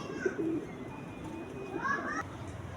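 High-flying pigeons in Karachi coo softly in soft repeated calls over a murmuring background, with a person talking nearby.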